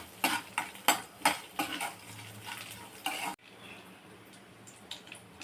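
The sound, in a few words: fresh coconut pieces frying and being stirred in pan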